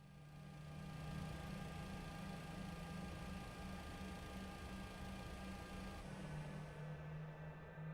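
An MD-11 airliner engine, number 2, spooling up in a flight simulator game, a steady mid-pitched hum with a sustained tonal whine that holds evenly throughout, then shifts slightly near the end.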